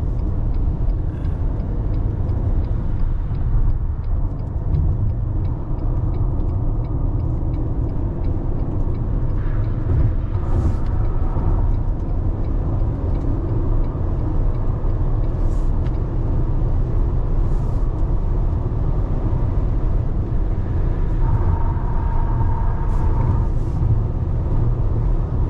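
A car drives along the Turnpike highway near Miami with a constant low engine and road rumble from inside the cabin, steady and loud throughout.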